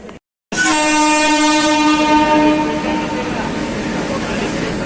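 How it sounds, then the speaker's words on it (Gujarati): A train rumbles in with a loud, sustained horn blast, followed by the heavy roar of railcars rolling close by. "ટ્રેન આવી ગઈ છે।"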